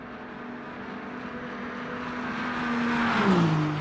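A BMW race car in Le Mans Ultimate, racing at Le Mans in light rain, sends out a steady engine drone that builds as it accelerates. The engine note rises to a louder peak, then drops as the car shifts gears near the end.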